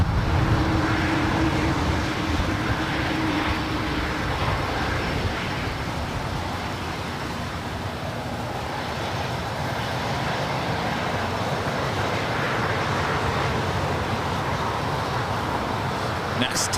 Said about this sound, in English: It's a Global 6000 about to cross over